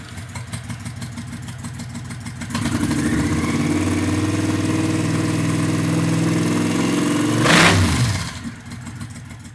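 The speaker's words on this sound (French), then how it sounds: "on va mettre la moto en route" A motorcycle engine turns over and catches after a couple of seconds, settling into a steady, close idle rumble with a brief rev blip near the end before it drops away, and nobody talks over it.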